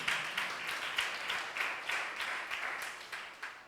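A church congregation claps sluggishly, a steady wash of many hands in a slow, loosely even rhythm with soft periodic swells, moderately close and without talk.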